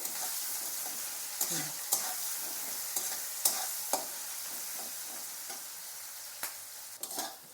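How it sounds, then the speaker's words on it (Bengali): Chopped onions frying in a pan for a spicy Bengali chicken tangri curry, a steady soft sizzle broken by scattered sharp stirring clinks and scrapes, with no talking. "পেঁয়াজ কুচি দিয়ে ভালো করে পেঁয়াজগুলো একটু লাল করে ভেজে নেব"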